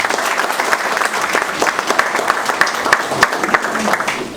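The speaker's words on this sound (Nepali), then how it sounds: "सबैजना मिलेर एकादशको निम्ति हामी ताली बजाएर स्वागत गर्छौँ" A church congregation bursts into dense, lively applause at the opening of a worship center, many hands clapping close and loud for several seconds before tapering slightly at the end.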